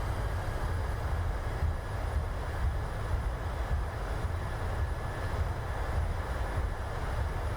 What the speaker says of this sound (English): And reverser's coming out.